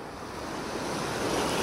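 Ocean waves surge in a steady, broad wash that swells slightly louder over a brief moment, mixed with wind buffeting the microphone, with no voices.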